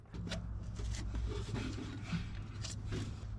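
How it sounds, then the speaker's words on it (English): Old thick gasket being scraped off a carburetor intake on a 1984 Toyota dually, soft close rasping strokes repeating irregularly, quiet and without talk. "you better run your old super scraper across there"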